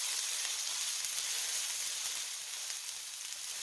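Garlic and green onion sauté in a pan, giving a soft, steady sizzle with a faint hiss and hardly any stirring, quiet and close.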